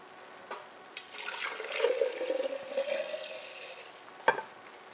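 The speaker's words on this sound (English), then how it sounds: "we're just gonna pour it into one of those larger jars that I had mentioned" Homemade almond milk poured into a large jar gives a steady liquid trickling and gurgling that swells mid-pour and tapers off, with a light knock of glass near the end and no talk.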